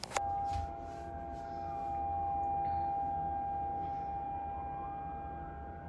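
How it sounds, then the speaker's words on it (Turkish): A steady, wailing siren tone drifts on outdoors, faint and distant, holding level for several seconds over low background hum. "Burada siren sesleri çalıyor."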